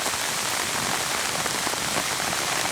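Steady rain pattering on surfaces in the woods during an evening bowhunt for deer, a dense, even hiss that stays constant throughout with no voices.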